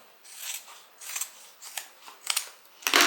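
Scissors snip repeatedly along a zipper edge inside a tote bag lining, about five crisp, close cuts at an uneven pace, with no talking.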